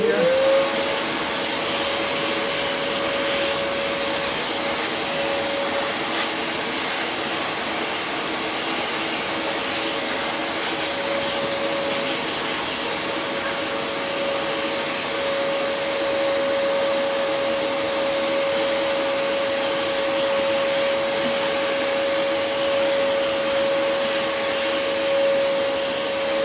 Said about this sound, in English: All right, a little vacuum here.